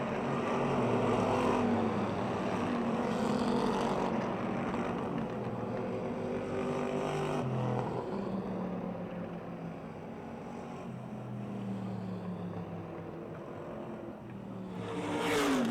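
Stock race cars roar around a speedway track after the checkered flag, engines droning and swelling steadily as they pass, with a louder surge near the end and no talk over it.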